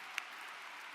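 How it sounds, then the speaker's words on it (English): Distant, steady applause from a commencement crowd, a faint wash of clapping with one brief louder clap near the start. "let's give everybody a round of applause who's out here surrounding you all to make sure that you guys succeed"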